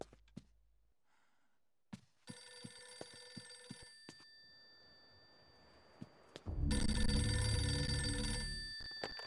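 A telephone rings in Eternal Darkness, bright tonal ring bursts starting a few seconds in, with sharp clicks and taps before, then a louder dense ring near the end.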